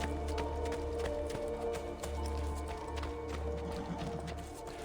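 Horse hooves clip-clop steadily in the Assassin's Creed 2 video game, a continuous moderately loud trotting rhythm over a low ambient game hum, with no talk.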